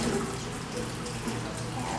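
Running tap water pours steadily into a sink as a fork is rinsed during dishwashing, a soft continuous splashing flow with no voices over it.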